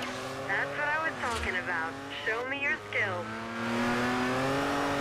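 A car engine hums steadily in the racing game Forza Horizon, its pitch rising as it revs, while a person talks over it.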